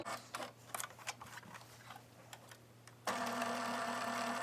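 A sewing machine stitches cotton appliqué shapes onto a Halloween quilt block, first in short intermittent bursts with pauses, then settling into a loud, steady continuous run close by.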